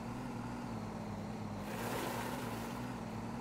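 A truck engine idles steadily while the vehicle is reparked in the video game Disney Infinity, with a low continuous hum and a brief swell of wind-like noise midway.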